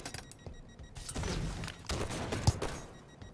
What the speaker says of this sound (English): Seems like everybody's shooting us all the time.